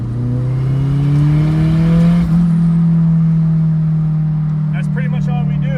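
Freshly built F24 engine during break-in revs up with a rising tone, holds high, then drops off as it engine brakes, loud and close throughout, with faint voice bits near the end.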